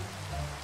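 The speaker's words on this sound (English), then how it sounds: "It's raining, guys!" Rain falls in the video game Flaggcraft, a soft, steady, faint hiss that lasts only a moment with no other sounds.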